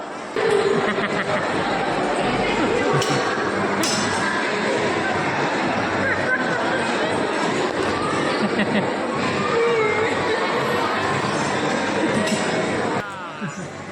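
Dense crowd of pilgrims at Girnar in Junagadh during the Diwali holidays, a steady babble of many overlapping voices and chatter with occasional clinks, close and continuous throughout.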